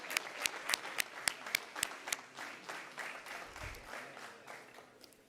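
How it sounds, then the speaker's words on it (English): Applause for program alumni at an end-of-year event: a few sharp, distinct claps ring out at first, then soften into a quieter, thinner patter of scattered hands that trails off. "can we please give a round of applause to alumni as they pin"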